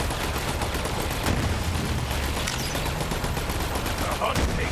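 Sustained turret gunfire from the video game Borderlands, a dense steady barrage of shots with sharp bursts throughout, loud and continuous with some game sound layered in.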